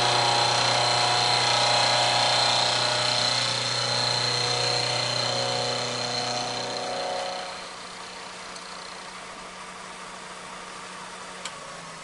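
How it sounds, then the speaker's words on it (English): Milling machine running during a direct indexing job, a steady, loud mechanical hum with a high whine that winds down and drops to a quieter drone partway through. "So milling machine's on."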